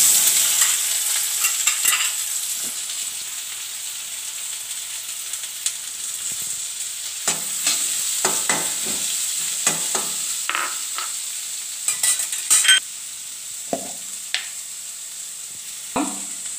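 Mustard seeds and sliced onions frying in oil for a vermicelli chicken biriyani: loud, steady sizzling with scattered crackles, pops and spoon scrapes against the pan throughout, no voices.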